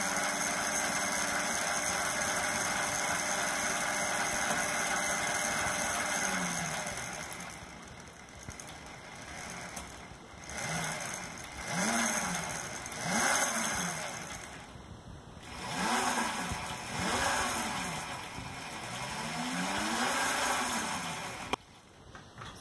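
A pedal-controlled electric motor drives a spinning wheel display, first with a steady whir, then with repeated rising and falling whines as the motor speeds up and slows down, close and fairly quiet.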